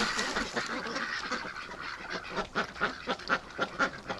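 A flock of farm ducks quacks and honks steadily, close by, with a run of loud, rhythmic calls building toward the end.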